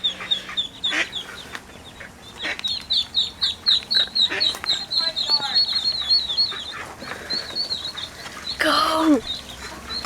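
Ducks quack in a busy run of repeated calls alongside clucking fowl, near and fairly loud, while a person urges them on between calls; a louder burst of calling comes near the end.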